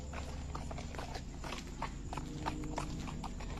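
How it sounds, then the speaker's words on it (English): Horse hooves clip-clop at night on a street in Santa Cruz, a quick, even run of hoof strikes at moderate distance over a low background hum. "Un caballo escucho por aquí."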